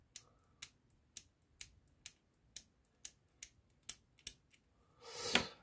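A screwdriver scrapes corrosion off the contacts of a Jabra PRO headset in about ten short, sharp strokes at a steady pace. It is close and fairly quiet, and ends in a louder, hissing rasp.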